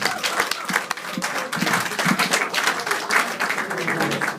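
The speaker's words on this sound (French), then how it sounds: "Est-ce qu'on peut applaudir pour la gloire de Dieu?" A church congregation in France claps together during a worship gathering, a dense, even patter of many hands that fills the room at moderate loudness.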